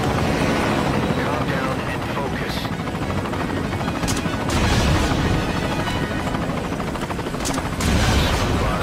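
In Metal Gear Solid V: Ground Zeroes, a loud helicopter's rotor drone runs continuously under bursts of gunfire and sharp impacts, with someone talking over the action.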